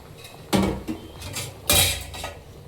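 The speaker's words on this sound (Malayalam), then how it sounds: "ഇനി അടപ്പൊക്കെ ഒന്ന് എടുത്ത് നോക്കാമേ" A pot lid is lifted off simmering fish curry with mango and drumstick in a home kitchen. Two sharp metallic clanks come about a second apart, with soft rattles between them, close and clear.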